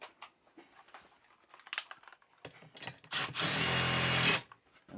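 A power drill turning a 3/8 socket runs a screw in during RV air conditioner distribution box work. Scattered handling clicks come first, then one loud, close, steady whir of about a second that stops abruptly.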